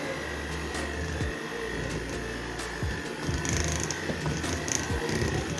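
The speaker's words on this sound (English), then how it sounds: "Then I turn on my mixer at low speed first" Electric mixer beating American buttercream at low speed, a continuous close mechanical whir with gear-like rattling and occasional clicks, steady and without speech.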